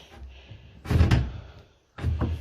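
A door being shut indoors, two solid thumps about a second apart, the first louder, with faint room noise between and no talk.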